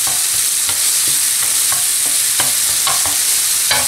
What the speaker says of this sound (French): je vais émietter la viande comme ça, en la mélangeant avec le persil et l'échalote